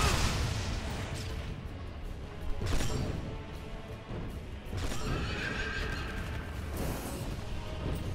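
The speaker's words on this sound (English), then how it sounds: "That is one fucked up horse." A horse in the game Shadow Warrior neighs and whinnies loudly over galloping clip-clop hooves and crashing combat noise, the shrill calls rising and falling repeatedly over about eight seconds.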